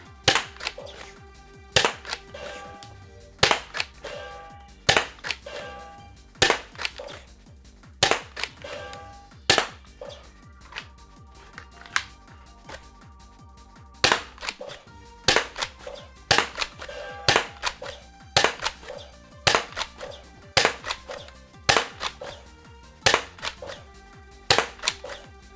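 Nerf blasters firing foam darts at a Nerf arcade, a steady run of sharp, loud snapping shots in quick bursts with brief pauses between them, going on without a break and with no talking.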